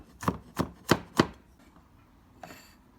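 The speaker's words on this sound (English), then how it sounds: "In the meantime, I am mincing the garlic." Knife mincing garlic on a cutting board, four crisp evenly spaced chops close by, then a pause and a softer scraping stroke.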